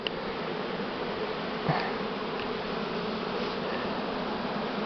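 A huge swarm of Buckfast honey bees fills the air around a hive with a steady, dense buzz that holds continuously at high intensity, with no voices.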